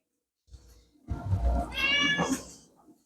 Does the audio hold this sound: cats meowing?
yes